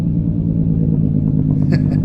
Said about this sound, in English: Yeah, I know y'all like that Jake brake.